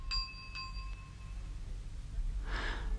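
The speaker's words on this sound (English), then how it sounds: "rang the bell." A porter rings a bell at a gate, two or three quick clear dings with a lingering ring, followed by a soft breathy sound near the end, quiet and without talk.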